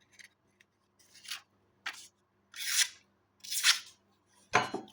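Freshly resharpened inexpensive steel knives, one a plain hardened blade in a plastic handle, slicing through sheets of paper: five short, crisp rasping cuts spaced about a second apart, close and clear with no talk.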